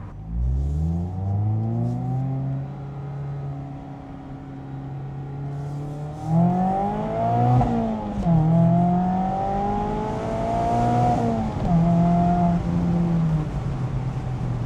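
A Mazda Miata ND3 with only a muffler change revs and pulls through the gears while driving, its clear engine tone climbing, dropping at shifts and rising again, steady and close.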